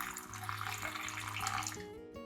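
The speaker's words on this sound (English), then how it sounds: "Then add approximately 500 milliliters of hot water." About 500 milliliters of hot water poured steadily onto shallots in a container, a continuous close splashing and trickling stream with a rising tone as the vessel fills, ending abruptly.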